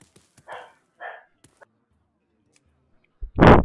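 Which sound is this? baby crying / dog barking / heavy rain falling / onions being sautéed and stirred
dog barking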